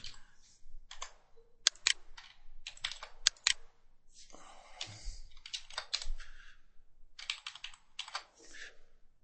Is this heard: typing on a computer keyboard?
yes